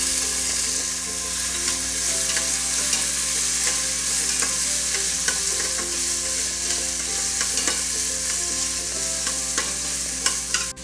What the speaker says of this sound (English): Add the carrots, green peas, saute for 2 to 3 minutes.